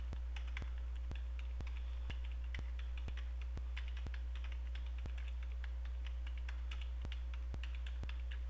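Steady typing of numbers on a computer keyboard's number keys, with regular key taps and occasional sharper clicks, close by, with no talking over it.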